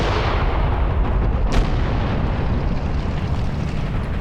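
Explosions and gunfire in the war game Graviteam Tactics, a dense continuous roar of artillery with one sharp blast near the middle, loud and without talk.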